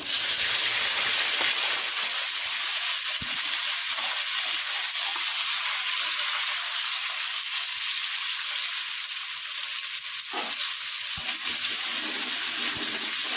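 Crabs go into smoking-hot oil and set off a loud, continuous hiss that stays strong and steady, with a few brief clatters, and no one speaks.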